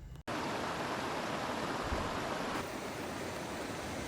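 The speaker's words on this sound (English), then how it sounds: "right next to a creek with fast running water" A fast-running creek beside a campsite rushes in a steady, dense, unbroken wash of water noise, fairly quiet and close, with no voices.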